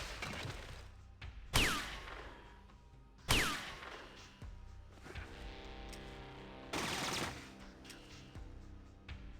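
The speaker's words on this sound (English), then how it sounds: "Shit, I forgot they have burst weapons." Burst-fire weapons in the turn-based game Fallout 2, heard as three sharp, loud gunfire bursts spaced a couple of seconds apart, each followed by a brief decaying tail over quiet game ambience.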